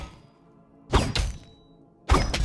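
A spear swung upward and slammed into the ground in the game Honor of Kings: two loud, heavy impact bursts with crackling debris, a second apart, over a quiet background.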